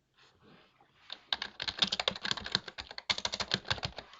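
Fast, uneven typing on a computer keyboard while writing in LibreOffice Writer on MX Linux 21.1. Crisp, close key clicks rattle in quick bursts for several seconds, with no talk over them.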